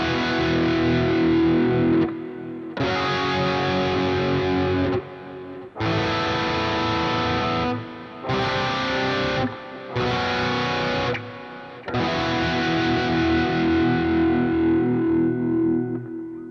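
Heavily distorted electric guitar strums a series of sustained sus2 chords, each ringing out before stopping, with short gaps between them.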